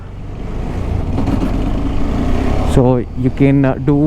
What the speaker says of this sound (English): clutchless upshifts like that, and also downshifts like that without using the clutch